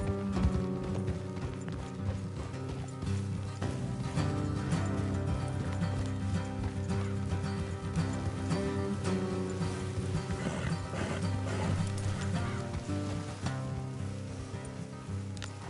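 Hooves clop in a steady rhythm as horses move along in Red Dead Redemption 2, mixed with background music and a busy ambient bed throughout.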